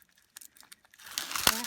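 Plastic backing peeled off sticky adhesive paper for a stamped fairy house card: a few soft crinkles, then a rising crackly tearing rustle ending in a sharp release, close and quiet.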